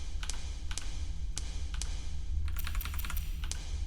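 Quick mouse clicks and key taps at a computer during a Korean horror puzzle game, coming in small scattered bursts, close and fairly faint over a steady low hum, with no talking.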